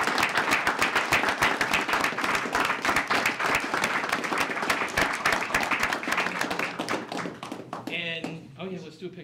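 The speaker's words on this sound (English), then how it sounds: "Let's give them all a great round of applause." Audience applause at a city mayor and council meeting honoring a group, dense clapping filling most of the clip before tapering off near the end as a voice begins speaking.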